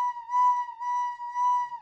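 A soft, breathy recorder tone played without tonguing, so the notes swell and blend into one another with no hard attacks, close and alone.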